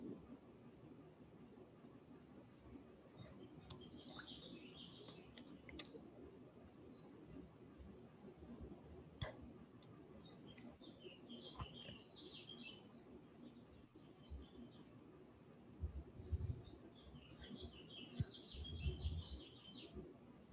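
Birds chirp and tweet in short, scattered bursts, faint and somewhat distant, over a low rumbling background, with a few louder thumps near the end.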